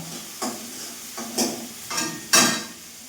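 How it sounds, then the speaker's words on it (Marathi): Onion frying in a pan, stirred in four distinct scraping strokes that each bring a short sizzling swell, the last one loudest, close by and with no talking. "कांदा टाकला, थोडासा भाजून घेऊ कांदा."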